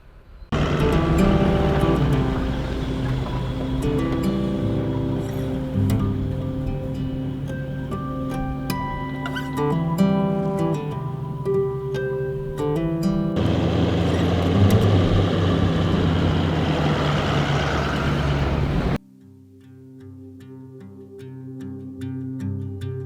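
A Land Cruiser driving on soft sand along a cut line in Moremi Game Reserve, Botswana, its engine droning steadily and loudly close up with shifting pitch, then abruptly dropping to a quieter hum near the end.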